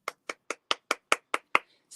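A canned applause effect played as eight sharp, evenly spaced claps in quick succession, close and crisp with silence between each, then a faint tail.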